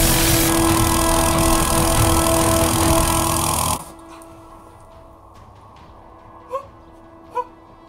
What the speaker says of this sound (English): We've got a petrol-powered pressure washer